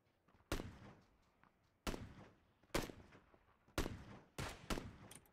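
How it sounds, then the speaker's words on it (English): Five sharp video-game gunshots ring out one at a time at irregular intervals, each a loud crack with a short decaying tail, fired during a shooter match around a fence. "I shot him under the fence."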